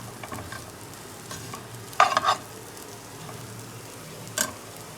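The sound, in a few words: stirring chana dal dhokla pieces in a frying pan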